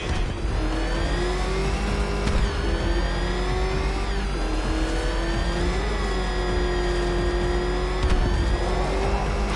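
A car engine in a Batman video game revs hard and steadily, its pitch sweeping up and down in repeated surges with loud, continuous roar and no talk.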